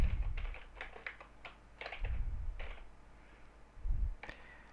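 Keystrokes on a computer keyboard as a first name is entered into a form, arriving in uneven quick bursts of close, crisp clicks separated by short pauses.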